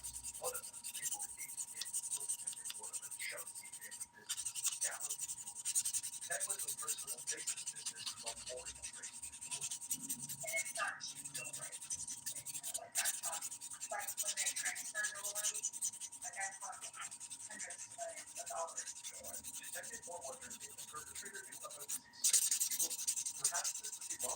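Steady soft rubbing of a sponge file buffing fingernails during a dip-powder manicure, continuous and close with a faint scratchy texture and brief pauses.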